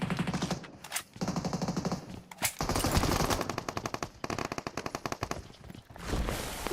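Rapid automatic gunfire from the mobile battle royale game BGMI comes in loud, close bursts of sharp repeated shots separated by brief pauses.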